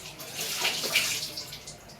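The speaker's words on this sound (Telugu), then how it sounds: "అంటే నేను హ్యాండ్ వాష్ చేసుకుంటాను." Water runs from a tap as hands are washed, a brief, soft, splashing gush that lasts about two seconds, close by and fairly quiet.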